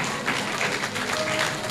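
Brief burst of clapping from an audience welcoming a guest at a Hindi-language commemorative gathering, a short steady patter of hands heard close and moderately loud.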